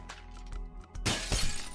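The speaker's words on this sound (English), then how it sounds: "Oh, were we supposed to break the glass?" Glass shatters in the physics game Happy Wheels, a sharp crash with a bright spray of breaking shards, preceded by a few thuds and clatters of the rider's impacts.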